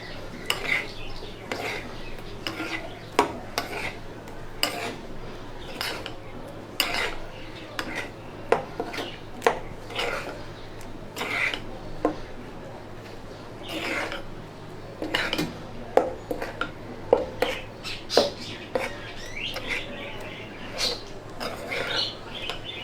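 Ingredients for a Bengali shahi roast are mixed together in a bowl, with a steady run of clinking and scraping as a utensil works through them, close and fairly loud against a faint low hum.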